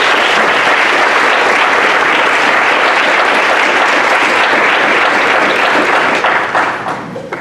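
A large audience bursts into loud, sustained applause welcoming the speaker at the Aims of Education Address, a dense wash of clapping holding steady before tapering off near the end.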